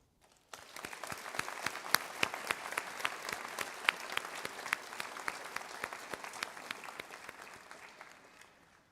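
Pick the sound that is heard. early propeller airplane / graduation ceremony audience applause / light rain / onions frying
graduation ceremony audience applause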